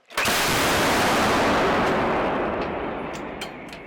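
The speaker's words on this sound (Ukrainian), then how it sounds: "Гарматна! Постріл!" One huge, sudden blast from an FH70 howitzer firing a shot, sharp at the start and then a long rumbling roar that slowly fades.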